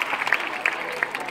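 A quick burst of audience applause at Pepe Viyuela's comedy stage show, a brief patter of many hands clapping at moderate volume with a few sharper claps standing out.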